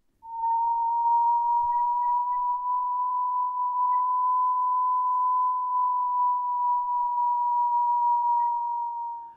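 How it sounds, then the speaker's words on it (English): A Blighter ground surveillance radar plays the Doppler audio signature of a moving target as a steady, clean electronic tone held for about nine seconds, alone and without speech. "selecting a target of interest enables the operator to listen to this audio signature and identify the various target types"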